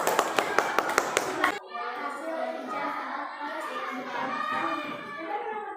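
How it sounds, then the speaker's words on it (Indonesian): Children in a primary school classroom clap their hands in a quick, steady burst of about six claps, then the room fills with lively children's chatter and movement. "tepuk tangan dulu"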